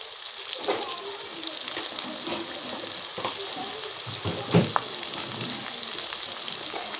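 Dried red chili and coriander powder frying in a pan, a steady sizzle with scattered clicks of a spoon stirring, fairly close and continuous.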